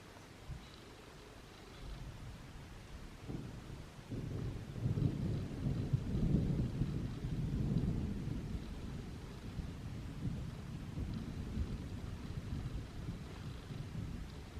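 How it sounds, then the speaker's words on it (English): A thunderstorm rolls over the wilderness, with deep rumbling thunder building and swelling through the middle of the clip over a constant hiss of steady rain, a little wind buffeting the microphone. "Thunderstorm starting."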